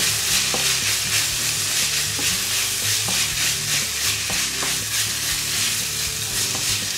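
Vegetables sauté with salmorreta in a paella pan for a vegan seafood paella, giving a steady close sizzle broken by scraping clicks as they are stirred.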